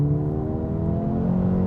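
Mercedes A35 AMG with a 2-litre turbocharged four-cylinder accelerating hard, a loud steady rising drone heard close from the cabin, heavy engine tone throughout with no talking.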